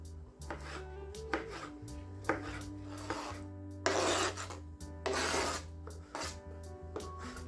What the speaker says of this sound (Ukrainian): Відварену моркву теж нарізаю соломкою.